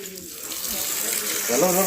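Water splashes and gurgles steadily as it is poured into an air-pruning plant pot, close by, with a voice talking over it.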